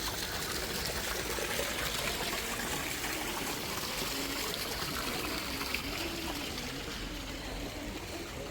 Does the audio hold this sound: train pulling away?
no